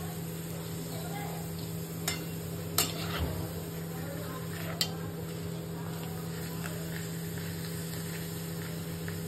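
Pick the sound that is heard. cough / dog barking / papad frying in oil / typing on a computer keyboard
papad frying in oil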